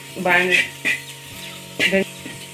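Okra frying in a pan after salt is added, stirred and mixed, giving several short bursts of sizzle and scraping with quieter gaps between, close and moderately loud.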